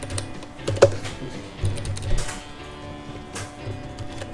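Computer keyboard used to enter AutoCAD commands, a few close, sparse key clicks and taps with short pauses between them over faint background noise.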